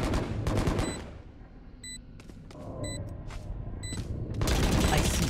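Bursts of gunfire crackle in a Valorant match, with rapid volleys at the start and end and short electronic beeps scattered through a quieter middle stretch.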